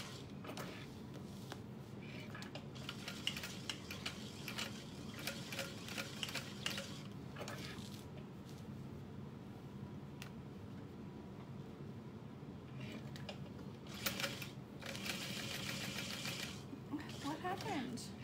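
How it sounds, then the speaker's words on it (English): A sewing machine stitches fabric about 1/8 inch from the outer edge of a connector piece while making a garment: a steady, fast mechanical whirr with faint ticking, close by, with a person talking softly over it. "I'm stitching about 1/8 of an inch from the outer edge of that connector"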